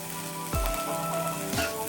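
An egg fries in a pan with salt and fresh coriander leaves, giving a quiet, continuous sizzle and crackle over background music, with two soft low thumps.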